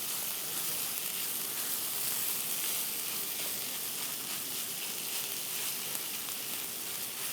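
Beef mince fries in a hot pan for a cheesy beef sandwich filling, giving a steady, even sizzle with crackling that holds throughout with no voices.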